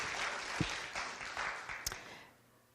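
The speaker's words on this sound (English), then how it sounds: "Give them a big round of applause, please." An audience gives a round of applause for volunteers, a moderate burst of clapping with a few sharper claps that tapers off toward the end.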